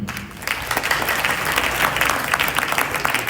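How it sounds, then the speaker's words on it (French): An audience at a Haitian women's event applauds warmly, a dense sustained clapping that swells after a brief lull and holds steady, close and loud. "Je vous prie d'applaudir chaudement."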